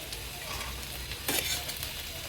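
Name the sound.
stirring fried okra with salt in a pan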